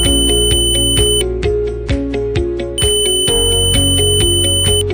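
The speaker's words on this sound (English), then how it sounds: "The test buzzes on and off, and the buzzer sounds to indicate normal patency." The continuity-test buzzer on an ANENG SZ308 digital multimeter beeps in a steady, loud on-off pattern of short pulses, close and continuous, with no talk.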